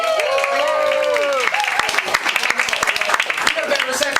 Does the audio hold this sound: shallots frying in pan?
no